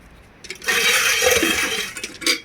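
A bucket of milk is emptied, giving a loud gushing liquid pour that rises over about a second and a half. A brief clink and a splash follow near the end.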